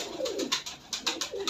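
Pigeons cooing up close, a quick run of soft throaty coos over a brief moment, with a few sharper flutters or clicks mixed in.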